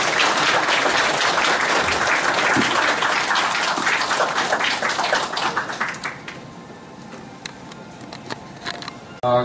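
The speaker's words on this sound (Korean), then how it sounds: "김태년 의장님을 큰 박수로 맞이해주시기 바랍니다." Audience applause fills a Korean political party briefing session in a Gumi gymnasium, loud dense clapping from a large crowd that gradually thins into scattered claps and fades out.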